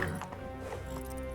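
Hoofbeats of Roach, the horse in The Witcher 3, a short run of soft clip-clop steps at a steady gait beneath a continuous backdrop of ambient game music.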